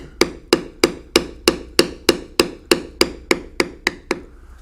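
A beveling tool is struck over and over to carve leather, about a dozen sharp, evenly spaced taps roughly three per second, close and crisp with no talk.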